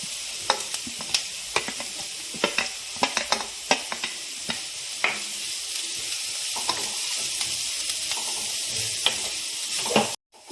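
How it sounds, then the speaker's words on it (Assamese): Carrots and onions stir-fry in a hot wok with a constant loud sizzle, punctuated by repeated sharp clanks of a spatula scraping the pan, ending abruptly near the close. "এতিয়া পিঁয়াজখিনি ভাজি লোৱাৰ পিছত গাজৰখিনি দি দিম"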